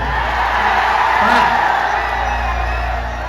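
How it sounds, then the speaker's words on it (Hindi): A crowd cheers and whoops loudly at a live stage event for a Bhojpuri singer, steady roar of voices with shouts, a swell near the middle, continuous throughout. "जोरदार हल्ला करके ताली बजाओ"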